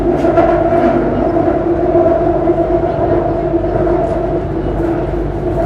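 Bangkok metro train at Wongwian Yai station, a steady loud rumble with sustained tonal hum throughout, filling the whole stretch without pauses.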